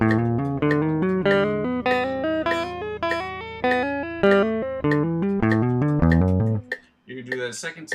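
A guitar finger exercise using index and pinky: evenly picked notes climb and descend in a steady, repetitive pattern, close and clear, ending with a brief pause and a few scattered notes.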